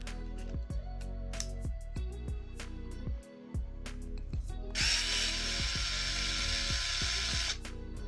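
A HOTO 3.6V electric screwdriver whirs in a rapid string of short, repeated motor bursts while driving 5mm hex bolts into a mountain bike handlebar stem, with a louder, sustained whir near the end, close up and alone.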